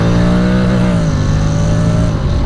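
Honda X-ADV 750 motorcycle with DCT gearbox revving hard, its engine note climbing and holding near the limiter with a steady, loud, close drone throughout and no talk.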